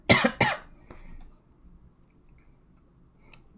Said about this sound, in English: sorry for all my coughing